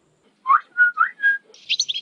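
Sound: whistling imitating a bird

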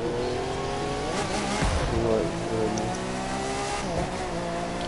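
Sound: car accelerating at full throttle in video game The Crew 2

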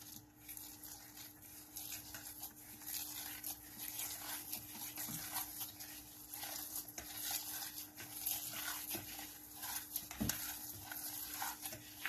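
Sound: stirring mixture in a bowl

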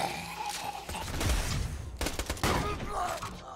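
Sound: gunfire in the video game Borderlands 2

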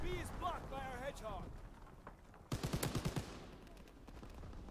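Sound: gunfire in the video game Call of Duty WWII

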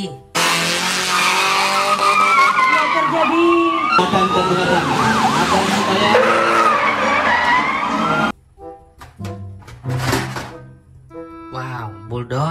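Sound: toy police car with siren and skidding sounds

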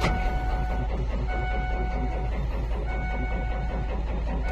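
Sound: Ford F-650 truck engine cranking over

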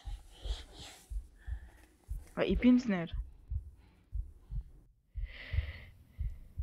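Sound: eerie snorting breathing in the video game Among the Sleep

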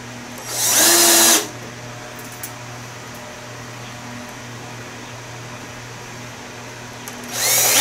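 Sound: power driving screws into wood

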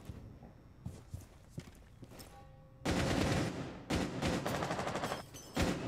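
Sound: gunshots in the video game Rainbow Six Siege

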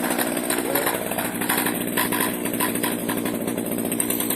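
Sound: Husqvarna 235r petrol brush cutter engine running

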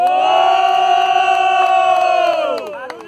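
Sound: crowd cheering and shouting for a rapper at a freestyle battle

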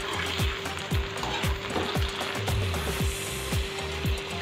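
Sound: eggplant frying in oil

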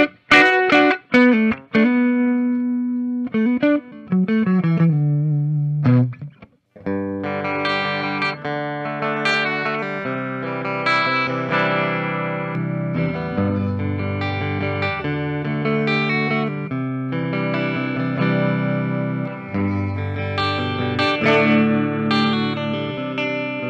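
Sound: Gibson Les Paul electric guitar, bright clean tone

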